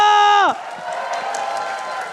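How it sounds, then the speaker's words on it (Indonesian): An arena crowd at a Mobile Legends MPL Indonesia esports match cheers and claps, a steady roar of whoops and applause rising right after a sustained tonal sound cuts off. "So, IPL Arena mana tepuk tangannya?"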